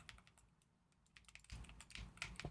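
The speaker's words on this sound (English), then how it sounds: "It seems like it's picking up my keys a lot more" Computer keyboard keys clatter through a streamer's mic in quick, uneven taps, sparse at first and then denser and louder for the second half, with no talking.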